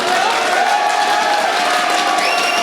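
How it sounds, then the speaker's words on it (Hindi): Crowd noise fills the hall at an all-India mushaira poetry recital in Siwalkhas, Meerut, a steady wash of clapping, cheering and shouts held at an even level throughout. "ताली ही बजा दो कम से कम।"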